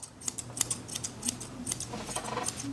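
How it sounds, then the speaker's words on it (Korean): Large hair-cutting scissors snip through hair for a rough first pass of a rounded teddy-bear face haircut, a steady run of quick, light, close metallic clicks at a low level. "이제 큰 가위로 초벌을 치고"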